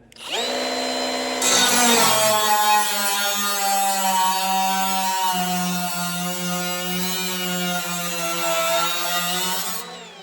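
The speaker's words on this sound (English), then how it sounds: "So I'm using battery powered tools." A battery-powered drill or impact tool whirs loudly and continuously for about eight seconds while working on a vehicle chassis, its whine steady with slight pitch shifts, then stops abruptly.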